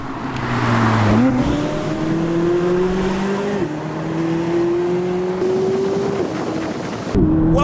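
A McLaren 570GT sports car engine pulls hard on a road, its pitch climbing repeatedly with quick upshifts between surges, loud and close with no talking.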